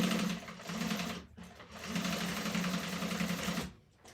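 A sewing machine runs in steady bursts while stitching a small bowler bag's lining, with short pauses between runs; a continuous close mechanical whir with no talk over it.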